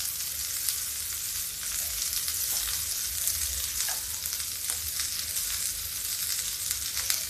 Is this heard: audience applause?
no